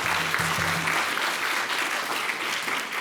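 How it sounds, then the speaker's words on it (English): An audience at a business allyship event applauds for an honored guest, steady broad clapping from a large crowd held at an even level throughout, with no talk on top. "Please give John Wang a round of applause."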